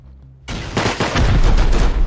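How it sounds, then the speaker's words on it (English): Rapid AK rifle fire in the survival game Rust, a loud sustained burst of overlapping shots that starts abruptly after a brief quiet hum and keeps rattling close by with a heavy low boom underneath. "Close to where the AK is shooting right now."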